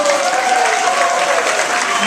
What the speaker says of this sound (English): Let's give Chad one last round of applause.